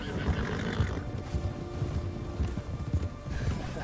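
Rhythmic clip-clop of galloping horse hooves in the video game Red Dead Redemption 2, with an occasional whinny, steady and fairly loud throughout.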